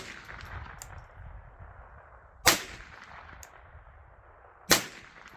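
.22LR rifle fired at a target with a CVLIFE JackalHowl 4x32 scope: two sharp, loud cracks about two seconds apart, each with a short decay, over quiet outdoor background.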